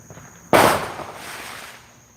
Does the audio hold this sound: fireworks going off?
yes